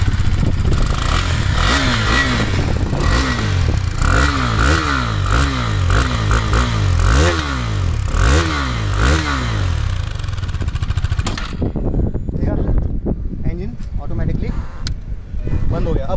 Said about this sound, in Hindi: और इंजन भी फायर करके आपको सुनाता हूँ